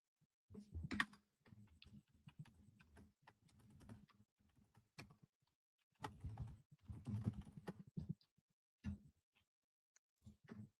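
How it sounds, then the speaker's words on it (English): Someone types quickly on a computer keyboard in irregular bursts of close, crisp key clatter with short pauses between runs, fairly quiet overall and with no talking. "I'm just over here banging away on the keyboard"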